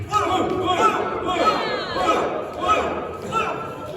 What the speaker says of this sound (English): Choose a color and cheer for it.